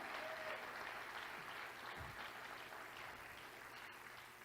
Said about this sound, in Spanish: Alguien aplauda la gloria de Jesús de Nazaret.